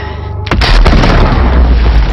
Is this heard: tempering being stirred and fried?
no